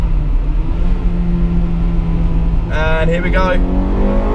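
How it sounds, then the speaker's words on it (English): Honda Integra Type R at running temperature, engine droning steadily with a rising tone as it is pushed toward VTEC, loud and close from inside the car; someone speaks briefly partway through. "the car is up to temperature now, so let's have a cheeky bit of VTEC"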